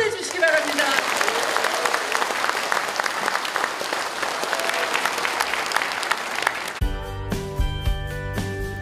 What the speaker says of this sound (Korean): 격려하는 박수를 다시 한번 보내주시기 바랍니다